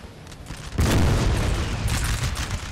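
Cannon artillery in the Napoleonic Total War 3 battle game fires as a heavy boom, followed by a sustained, loud rumbling roar of gunfire that continues through the rest of the moment.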